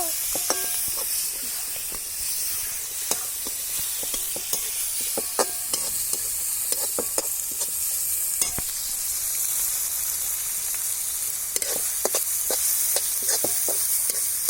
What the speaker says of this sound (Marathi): आता टमाटे सोडतो टमाटे घेऊन तेलात